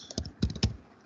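Keys on a computer keyboard clatter close by in two quick bursts of clicks, each a few keystrokes long. Nobody talks over them.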